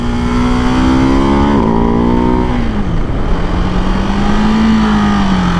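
A 2024 Ducati Hypermotard 698 Mono single-cylinder engine revs hard and close, its pitch rising, dipping sharply and then climbing again while the loud, continuous roar is held at high revs.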